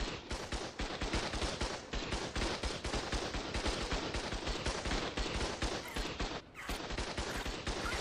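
Automated turret gunfire in the video game Ark Lost Colony, a steady rapid stream of shots firing continuously with only a brief dip, loud and dense with no talk over it.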